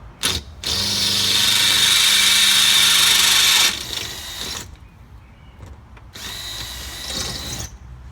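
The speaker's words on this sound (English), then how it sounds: "I'm gonna have to drill that one out." A power drill drilling out a rusted bolt on a Mercedes-Benz ML320 third-row seat mount whines loudly for about three seconds, stops, then runs again in shorter bursts with a grinding, ratcheting edge, close up.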